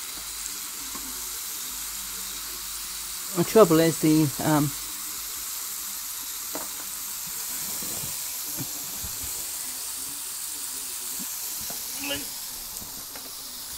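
Beef burger topped with pineapple slices sizzling and steaming in a pan, a steady frying hiss throughout with a brief louder burst of activity near the start and someone speaking over it.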